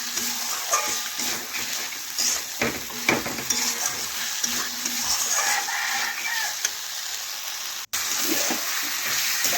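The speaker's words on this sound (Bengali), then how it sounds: "এইভাবে নাড়াচাড়া করে 2 থেকে 3 মিনিট আমি মশলার সাথে মিশিয়ে আবারও কষে নিচ্ছি" Chicken cooking in a pan with salt and spices, stirred and sautéed without water, gives a steady close sizzle with scraping stir strokes throughout, plus a brief dropout near the end.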